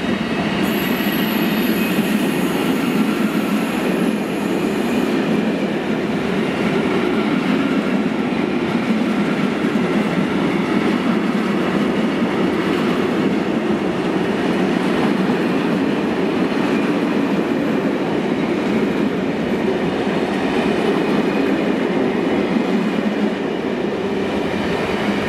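A long freight train of steel wagons rolls steadily past nearby at Cardiff Central station, a continuous loud rumble and rattle of wagons with a brief high wheel squeal at the start.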